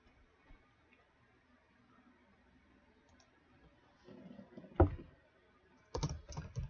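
Sparse clicks from a computer keyboard with missing N and M keys, faint at first, then a few louder clustered keystroke bursts near the end of an otherwise quiet room.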